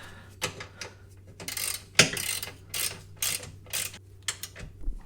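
A hand ratchet tightening sway bar end link bolts on a 2018 Subaru Forester during a Whiteline adjustable rear sway bar install, with bursts of close clicking strokes separated by short pauses and a sharp metallic knock partway through.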